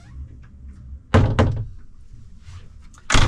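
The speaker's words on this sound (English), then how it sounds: "I could open this up, and this is another door right into the head." A door into the head aboard a Meridian 391 motor yacht is opened with a couple of close, solid thunks and a later bump, heard alone against quiet cabin background.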